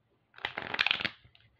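A quick riffle of chakra energy cards being shuffled during a card reading, with some trouble in the shuffle, a brief crisp flurry of flicking and clattering, close and fairly quiet.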